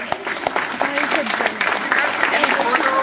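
Applause from a seated crowd at a high school fall sports awards night, continuous brisk clapping filling the room for several seconds, with a few louder nearby claps standing out and faint voices mixed in.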